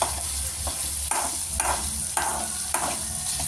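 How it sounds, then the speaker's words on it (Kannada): Onions sautéed in a pan for a ladies finger gravy, with a constant close sizzle broken by regular spatula stirring strokes about every half second. "ಸೊ ಈರುಳ್ಳಿ ಎಷ್ಟು ಫ್ರೈ ಆಗುತ್ತೋ ಅಷ್ಟು ಟೇಸ್ಟ್ ನಮಗೆ ಸಿಗುತ್ತೆ. ಸೊ ಚೆನ್ನಾಗಿ ಬಾಡಿಸ್ತಾಯಿರಿ"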